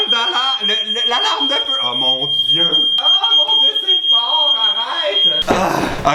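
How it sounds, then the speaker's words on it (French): A home smoke detector fire alarm, set off by a heavy cloud of hairspray, sounds a piercing, continuous high-pitched tone under loud, frantic shouting, with a burst of spray-like hiss at the end. "Il faut que j'arrête le système d'alarme, l'alarme de feu!"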